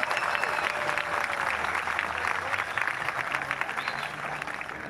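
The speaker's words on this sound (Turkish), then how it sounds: "Bir alkış daha Avni Hanım'la alabilir miyiz?" An audience at a concert applauds steadily and densely throughout, a sustained wash of clapping with some crowd noise mixed in.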